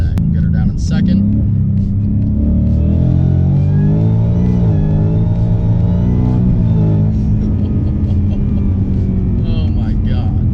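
A 700-horsepower 2018 Mustang with a ten-speed automatic pulls hard in second gear, producing a loud, sustained engine roar heard from inside the car, with an occasional voice mixed in.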